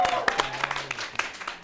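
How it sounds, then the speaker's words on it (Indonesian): Brief scattered clapping in a talk-show studio, a handful of uneven claps lasting under two seconds with voices talking over them. "Wih, tepuk tangan dulu."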